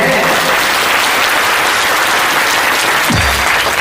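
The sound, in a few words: loud audience applause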